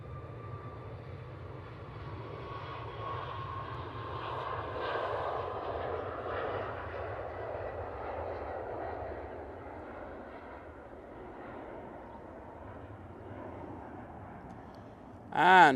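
A Boeing 737 Max airliner departs Manchester Airport, its engines a low, distant rumble and roar that builds slightly, then holds steady, heard from afar.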